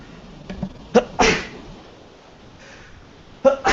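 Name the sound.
sneeze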